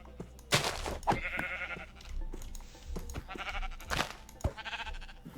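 Sheep bleating in the video game Minecraft, several loud wavering bleats in succession, with thumping hits and game sounds between them.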